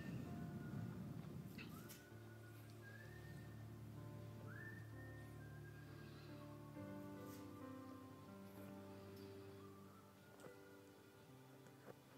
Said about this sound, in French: Commence simplement à siffler.